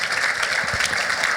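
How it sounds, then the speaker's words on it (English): Conference audience applause, a short burst of steady clapping from a crowd in a hall, moderately loud and uninterrupted. "Round of applause for Jeffrey."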